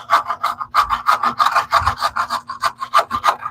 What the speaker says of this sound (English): Now I'm going to just use the edge of this trowel